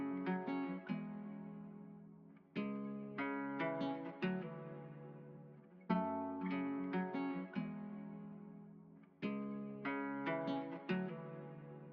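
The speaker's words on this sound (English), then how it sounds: "For the backing, I did like another auto filter and then EQ'd it and I compressed it." Sampled melodic backing loop processed with an auto filter, EQ and compression, with plucky, bright chord stabs repeating in rhythmic phrases, clean and moderately quiet with no voices.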